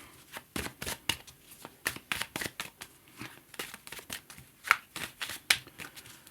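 A deck of tarot cards shuffled by hand, with quick riffling bursts and soft slaps repeating in an irregular rhythm, close up and clear, with no voices.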